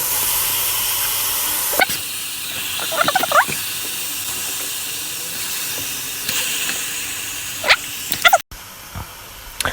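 Steady broadband sizzle and hiss from chicken frying in a pan for quiche, with a few clinks and scrapes of utensils; no talking.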